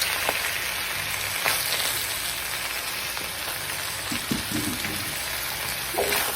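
Vegetables, including broccoli, sizzling loudly in a hot pan with seared beef, a dense continuous crackle with occasional stirring clanks and spatula scrapes close by.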